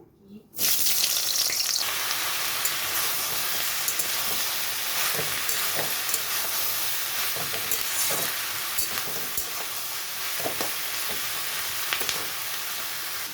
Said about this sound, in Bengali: এখানে আমি পেঁয়াজটা দিয়ে দিচ্ছি তেলটা গরম হয়ে গেছে